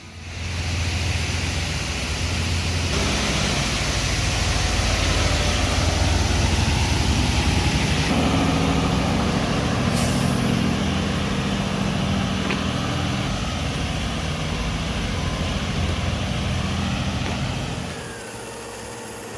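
A Deutz-Fahr Agritron 7250 TTV tractor hauls a heavy-duty truck along a road, its engine a loud steady low roar that holds throughout with a broad rushing hiss, easing near the end.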